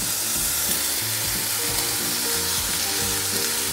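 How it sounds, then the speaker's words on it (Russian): Onions, shallots and leeks sizzle in a pan over smoked pork belly, a loud, steady frying hiss that carries through the whole stretch with no voices. "Гарнир мы будем обжаривать на свиной копченой грудке"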